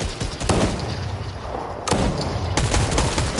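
Rapid bursts of gunfire from the Fortnite video game crackle close and loud, with several sharp volleys and shots coming from different directions in quick succession.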